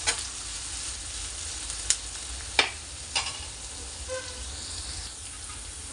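Onion frying in a hot pan, a steady close sizzle with a few sharp clinks of a spatula scraping through it, no voices.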